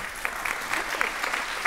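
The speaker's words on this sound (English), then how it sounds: "Can we have a round of applause for Maggie?" An audience at a React developer conference applauds in a short burst of dense, steady clapping, with a few voices mixed in.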